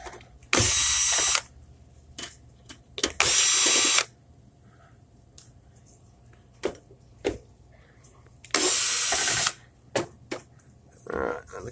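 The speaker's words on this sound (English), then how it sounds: "we'll have to drill a hole and make it fit" A power drill with a screwdriver bit whirs in three loud bursts of about a second each while drilling a hole for a T12 ballast conversion, with scattered clicks and knocks between them.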